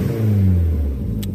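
A car engine, a B5 after clutch work, idles close by with a steady low rumble that rises briefly in revs and then settles, with a short sharp click near the end.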